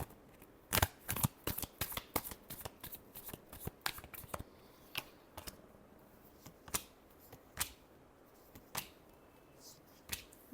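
Tarot cards being shuffled, a run of quick crisp riffling snaps early on, then slower scattered flicks and taps spaced a second or so apart, close and fairly quiet with no talking.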